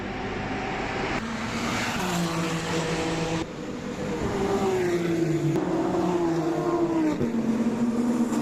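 Porsche race cars lapping a circuit, heard from the pit area: a continuous, fairly loud engine roar whose pitch rises and falls as cars pass and accelerate, with no talking.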